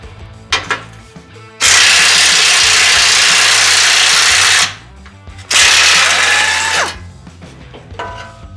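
A pneumatic impact tool loosens tight metal bolts on a 2022 Ford Bronco during an oil change: two loud, sustained hammering bursts of about three seconds and one and a half seconds, close up, with quieter clanks between.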